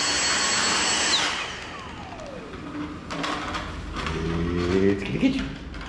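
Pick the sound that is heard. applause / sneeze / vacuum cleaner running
vacuum cleaner running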